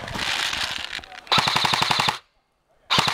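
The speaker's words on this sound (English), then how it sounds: "Yeah, I shot you, Logan." Airsoft guns firing during an airsoft battle, in two loud, close bursts of rapid shots separated by a brief silence, then firing resumes.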